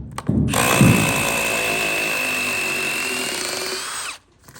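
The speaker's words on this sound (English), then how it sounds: "now we're going to take these screws out" A cordless power drill backs screws out of a window frame in an Alaska log home, a sustained high whirring whine for several seconds after a brief handling clatter, close and loud.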